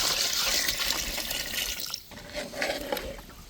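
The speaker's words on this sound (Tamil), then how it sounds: "அப்போ தான் நம்ம வந்து தண்ணி சேர்க்கணும்" Water pours in a steady rushing stream into a cooking pot for biryani, cutting off midway, followed by lighter splashing and trickling close by.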